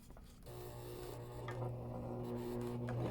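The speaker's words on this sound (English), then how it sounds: "Lower your presser foot and slowly press on the foot pedal." A sewing machine motor hums up as the foot pedal is pressed, then runs steadily along a straight line for about three seconds, with a few light clicks from the fabric and machine.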